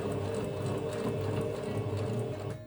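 A sewing machine stitching a fabric book cover with elastic, running in a continuous close mechanical whir and rattle that stops abruptly at the end.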